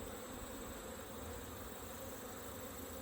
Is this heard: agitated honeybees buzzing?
yes